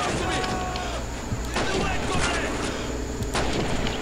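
Sniper rifle shots ring out in Call of Duty 2 amid constant battlefield rumble, with about three sharp, loud cracks spaced a second or two apart and someone talking over them.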